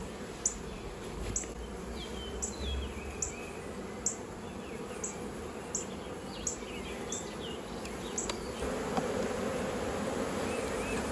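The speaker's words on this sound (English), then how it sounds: "And those bees are hard to get off of there." Honey bees hum around a hive in a dense, continuous drone close by, with occasional louder buzzes passing near and faint ticking sounds throughout.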